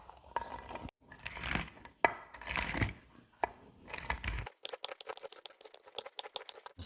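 Walnuts are chopped finely with a knife on a board, sounding as scraping, crunching rough passages and then a fast run of close, sharp chops and taps.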